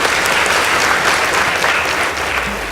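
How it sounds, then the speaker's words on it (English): An audience claps after a high school debate between girls' and boys' schools is decided, a loud, continuous patter of many hands filling the room, fading slightly toward the end. "Please give them a warm round of applause."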